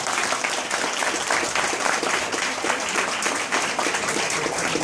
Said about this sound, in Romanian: Da, mai aplaudem.